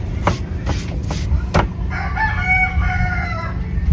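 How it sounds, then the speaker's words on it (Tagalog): A rooster crows loudly nearby, a drawn-out call after a few sharp clucks, over a busy background of other chickens. "Kaingay ng manok."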